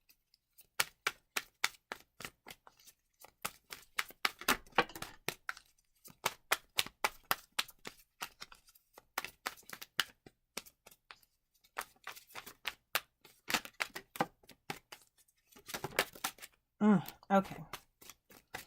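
Tarot cards being shuffled, a dense run of quick riffling clicks and flutters in bursts with short pauses between, close and fairly quiet, with a brief spoken word near the end.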